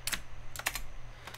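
Quick light keystrokes on a computer keyboard, a few short clusters of taps over a faint steady hum, close and fairly soft, with no talking.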